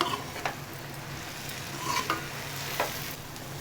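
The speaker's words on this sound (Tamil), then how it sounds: "லேசாக அப்படி ஒரு பக்கமாக அப்படியே பரட்டி விடுங்க சாதத்தை." Cooked tomato rice is stirred in a pan with a low, steady sizzle underneath and a few scraping strokes of a spoon against the metal, close by and fairly quiet, with no talking.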